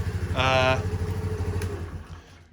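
A 2022 Honda Navi motorcycle engine idles steadily with a low, even rumble, joined briefly by a louder harmonic whine partway through, before tapering off.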